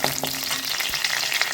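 Fennel seeds, crushed garlic and ginger paste fry in onion-flavoured oil in a wok for egg biryani. The sizzle is busy and crackling, with a few stirring knocks, and no one speaks.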